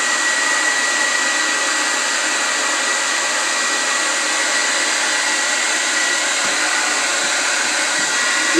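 A blow dryer runs steadily while heating a vinyl floor tile from underneath, a loud, even whirring drone with no change in pitch and faint handling noises near the end.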